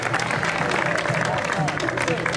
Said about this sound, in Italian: Quindi un applauso a Vincenzo